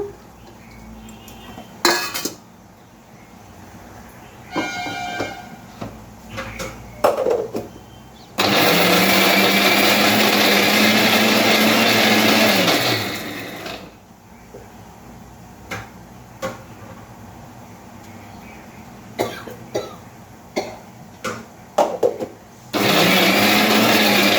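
A mixer grinder whirs loudly for about five seconds while grinding red chillies and garlic for a tomato chutney, then winds down. Brief bursts start it again near the end, with kitchen clatter of utensils before and between.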